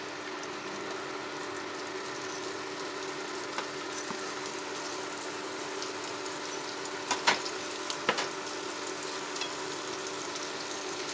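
Potatoes fry in a pan for a village-style potato roast, a continuous sizzle with a few sharper pops and crackles near the end, heard alone without talk.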